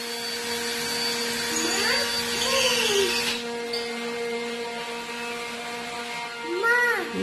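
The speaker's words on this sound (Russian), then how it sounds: "Да, папа уже дрелит." An electric drill running somewhere in a home, a steady motor whine throughout with a brief change partway, while voices talk nearby over it.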